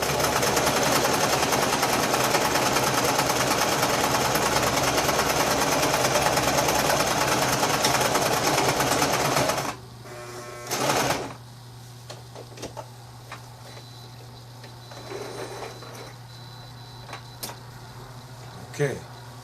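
A sewing machine stitches rainbow stripe bikini briefs, running loud and continuous for about ten seconds before stopping abruptly, followed by quieter handling clicks and brief bursts of sound.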